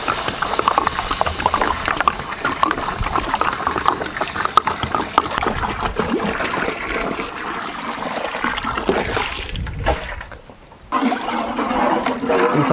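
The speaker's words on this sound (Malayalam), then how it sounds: "കുറച്ച് വെള്ളം ഒഴിച്ച് കൊടുക്കാം." Water poured into a large pot of dhaba-style egg curry with masala, a loud rushing pour close by that surges and splashes, breaks off briefly near the end, then resumes as a hissing sizzle.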